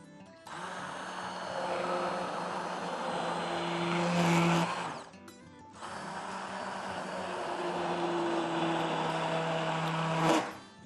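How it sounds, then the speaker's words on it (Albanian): A kitchen blender purees leek and potato cream soup in two long, steady whirring runs, loud and close, with a brief stop between them and the motor rising slightly in pitch. "tani veç e kalojmë supën në blender"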